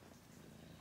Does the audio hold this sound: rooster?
no